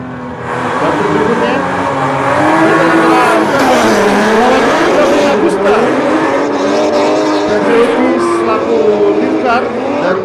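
Drift cars at a Drift Kings Indonesia race, loud continuous engine roar with rising and falling revs and sustained tire squeal, a commentator talking over the noise.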